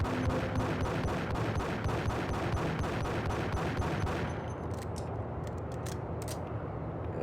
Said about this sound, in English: Shooting from afar